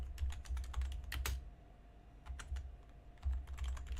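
Typing on a computer keyboard, close and fairly loud, in quick irregular bursts of key clicks with short pauses between runs and low thumps underneath; no talk.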